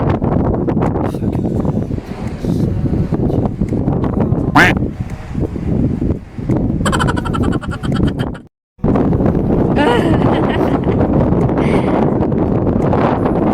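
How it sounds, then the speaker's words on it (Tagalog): Wind gusts steadily outdoors at Sundays River in South Africa, a loud, continuous rumble buffeting the microphone, easing briefly and cutting out for a moment near the end before returning. "Mahangin sa labas."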